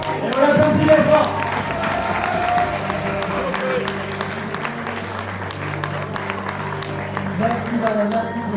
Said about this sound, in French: Et on l'applaudit les fort.